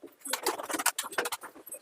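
Soft Malwai pigeon cooing close by, a series of low throaty coos mixed with light rustling and clicks.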